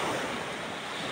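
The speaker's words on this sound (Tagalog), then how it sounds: "malakas yung alon, tsaka medyo malakas yung hangin" Strong ocean waves and wind at sea around a small fishing boat, a continuous loud roar of surf with buffeting wind noise on the microphone and no voices.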